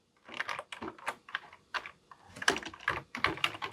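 Computer keyboard typing comes in short, crisp bursts of keystrokes, close and fairly quiet, with brief gaps between groups.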